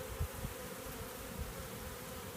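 A honeybee swarm being caught by beekeepers, a dense, continuous buzzing drone of many bees fanning and crowding a hive entrance, steady and fairly quiet, with no talk.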